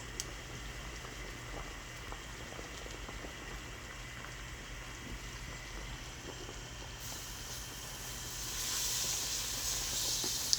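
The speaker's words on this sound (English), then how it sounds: "We're gonna start to melt our butter." Butter melts in a pan on the stove with a steady, soft sizzle and hiss that grows a little louder toward the end, heard alone.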